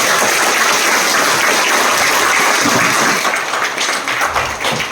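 Hall audience at a success-story seminar breaks into loud, steady applause that holds strong throughout with scattered sharper claps near the end.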